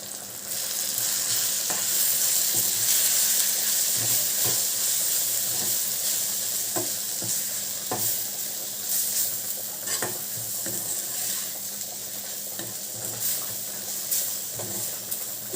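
Dried fish thokku sizzles and fries steadily in a pan while a spoon scrapes and stirs through it, with a continuous loud hiss and intermittent clanks close by.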